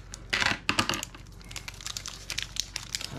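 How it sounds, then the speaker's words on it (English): Scissors cut across plastic packaging around a 1989 Bowman baseball card, giving crisp crinkling and snipping bursts, loudest at the start, then scattered lighter crackles, close up with no talk. "I have to cut across it, I think."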